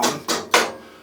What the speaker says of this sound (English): you want to take your hammer and hammer that down